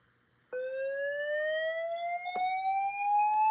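A Gamewell fire alarm tone sounding from a demo board: after a short quiet start, a loud, steady electronic whoop begins abruptly and slowly rises in pitch, with a brief click partway through.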